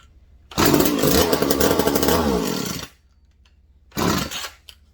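An old McCulloch Mac 110 chainsaw firing up and running, a loud ragged buzz for about two seconds that dies out, then a second short burst after a pause of near silence.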